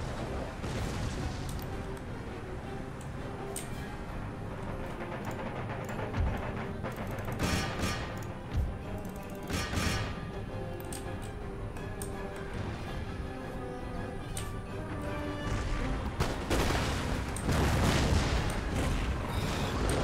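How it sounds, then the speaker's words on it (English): Artillery in Empire Total War booms repeatedly over a steady battlefield din, with scattered heavy thumps rising toward the end, moderately loud and fairly distant. "Devastating artillery strikes."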